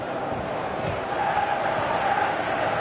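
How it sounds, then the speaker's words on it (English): Football stadium crowd in a video game, heard as a continuous broad roar of many voices at moderate loudness that swells slightly toward the end, like fans urging a player to shoot. "Crowd calling for him to shoot"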